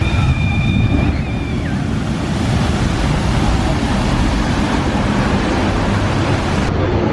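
A water ride splashes down at Universal's Islands of Adventure theme park, a loud, steady rush of churning water and spray that fills the whole stretch, with a faint high whistle early on.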